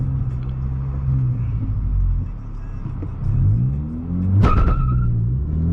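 A car with a Powermetric stage 1 tune launches from about 3000 RPM with traction control on. The engine roars loud and close, its pitch climbing through the gears, with a brief sharp burst near the end.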